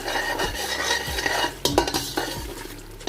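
Noodle masala seasoned with black pepper powder is stirred and fried in a pan. A steady sizzle runs under repeated scraping strokes of a spoon, close and fairly loud, with no talking.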